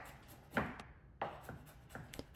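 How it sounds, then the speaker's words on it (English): A few sharp knife strikes chopping bell peppers on a cutting board, spaced irregularly, close up and fairly quiet, with soft kitchen background noise. "I'm cutting all of the bell peppers into small little pieces"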